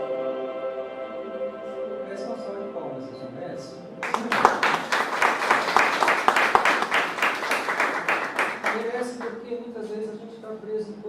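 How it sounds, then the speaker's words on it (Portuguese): Church congregation bursts into applause after a sermon, a dense burst of clapping that starts suddenly and fades after about five seconds, with a pastor's voice talking before and after. "Merece uma salva de palmas"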